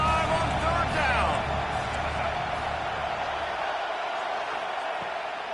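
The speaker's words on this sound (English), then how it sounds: "The Buckeye crowd alive on third down." A stadium crowd of Ohio State Buckeye fans roars steadily on third down in a college football video game, a dense, continuous wash of cheering that eases slightly toward the end, with commentary talk over it.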